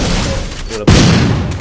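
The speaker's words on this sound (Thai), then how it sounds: "ช็อตนี้ผมโดนระเบิด" A sudden loud grenade blast in a video game bursts in after a brief dip, following a stretch of dense gunfire-like crackle, with the explosion's rumble lingering to the end.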